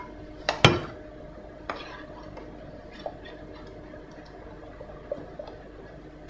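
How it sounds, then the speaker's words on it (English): Butter chicken curry stirred in a pan with a utensil, giving a sharp metallic clank near the start, then scattered soft scrapes and light knocks against the pan. "So what we're going to do now, we're going to give that a mix."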